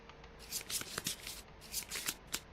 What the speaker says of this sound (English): I'm going to shuffle them 3 more times just to be sure.